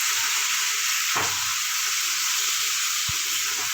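Ghee added to hot oil in a pan for chicken curry gives a steady, loud broadband sizzle and hiss that holds throughout, with a brief low thump near the start and another late.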